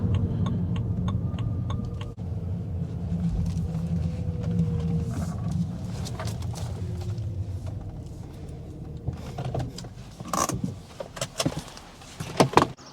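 A BMW E90 sedan on a test drive runs with a low engine hum and road rumble, then a few sharp clicks and knocks near the end, with no one talking.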